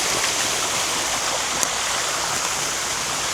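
Water rushes through small rapids in a backyard pond stream, a constant, dense splashing hiss at close range with no voices and no breaks.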